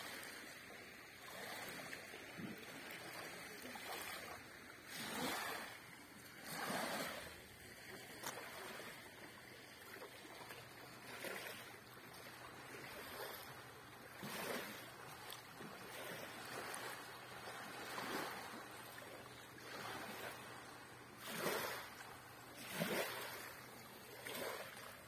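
Waves on Lake Alakol wash in with a faint, rhythmic rise and fall of swishing water, heard from a distance over a low, steady background rumble.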